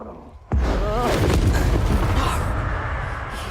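A Confringo explosion spell from Hogwarts Legacy bursts with a sudden loud blast, then a sustained roaring rumble that slowly fades, with a brief voice heard over it.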